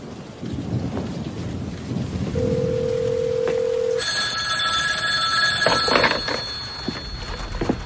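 A phone rings with a loud electronic tone over steady rain and rumbling, after a brief single beep.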